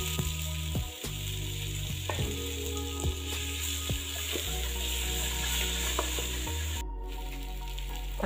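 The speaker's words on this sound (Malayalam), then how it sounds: "വെളിച്ചെണ്ണ ചൂടായി കഴിയുമ്പോൾ അതിലേക്ക് നമുക്ക് കുറച്ച് ചെറിയ ഉള്ളിയും ഒരു 4 സവാളയും കൂടി ഞാൻ അരിഞ്ഞ് വെച്ചിട്ട് ഇത് രണ്ടും കൂടി ഒന്നിച്ച് ചേർക്കാം" Chopped shallots and onions fry in hot coconut oil for a country chicken curry, giving a steady close sizzle with intermittent scraping and clicking stirs and a low mechanical hum underneath.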